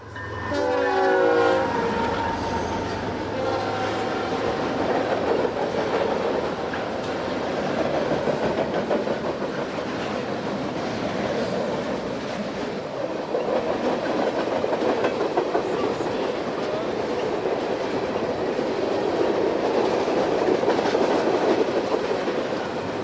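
A long freight train on the Louisiana & Northwest Railroad, hauled by GP15 locomotives at full throttle, rumbles past with rhythmic clattering wheels, opening with a horn blast, loud and sustained throughout.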